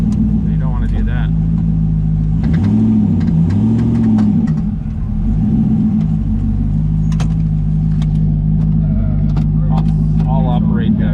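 A turbocharged LS-powered race car idles with a deep, steady engine drone, and its pitch climbs and falls in blips. People talk over the engine noise inside the car.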